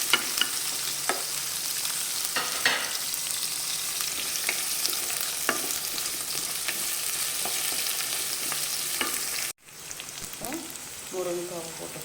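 Radish pieces sauté in a hot pan for sambar, sizzling and frying steadily with occasional stirring scrapes, and a brief break near the end.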